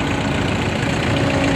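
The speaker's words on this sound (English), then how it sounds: "Here we have a McCormick Diesel Super WD-9 owned by the Burke family out of Finksburg." A McCormick Diesel Super WD-9 antique tractor idles at a parade, its diesel engine giving a steady, close, loud knocking rumble throughout a brief stretch with no voices.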